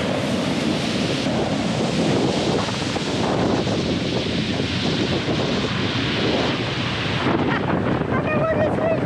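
Strong wind gusts across the open sea on a windy day, a loud, continuous roar of buffeting air and surf that fills the whole stretch with little let-up.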